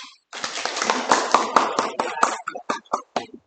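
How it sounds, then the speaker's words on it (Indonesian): A class of students claps hands together, a burst of dense, close claps that thins into a few separate, evenly spaced claps toward the end. "Sekali lagi tepuk tangan semua."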